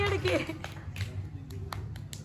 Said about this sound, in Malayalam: കൈയടിക്കുക എല്ലാവരും